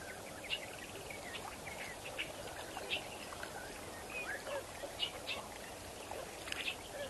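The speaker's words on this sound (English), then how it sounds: "Beautiful sounds of the birds." Birds call at a waterhole in the wild, scattered chirps and whistles over a soft, steady ambient background, fairly distant and faint.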